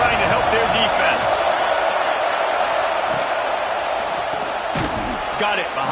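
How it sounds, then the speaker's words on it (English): Stadium crowd roaring in the NCAA 26 college football video game, a dense sustained wash of cheering and noise that holds steady throughout with no pauses. "Listen to this crowd just shaking the girders of this place, trying to help their defense."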